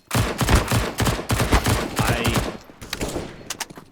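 Gunfire in Counter-Strike on the Inferno map: a fast stream of closely packed shots for about two seconds, then a few sparser, scattered shots as the firing trails off.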